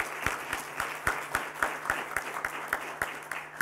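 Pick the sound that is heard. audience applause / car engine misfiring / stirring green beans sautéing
audience applause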